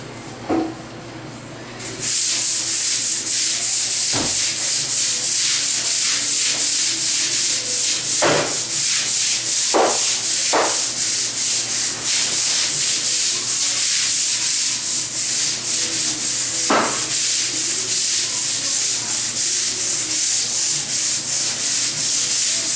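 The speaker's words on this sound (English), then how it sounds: "Now we're going to take the deck brush and scrub it down." A deck brush scrubbing a floor heavily coated with soap makes a continuous loud, hissing rasp that starts after a quiet couple of seconds, with occasional knocks of the brush.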